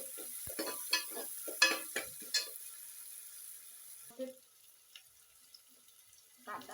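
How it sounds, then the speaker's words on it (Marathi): Chopped onion sautés in oil for Khandeshi masala khichdi: a spatula scrapes and stirs in a quick cluster of strokes over a faint sizzle, then long near-quiet stretches with a couple of later stirs. "कांदा परतून घेऊ।"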